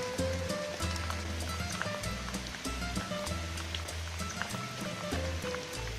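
Steady rain patters continuously on a surface, a dense wash of drops with a low rumble underneath and no pauses.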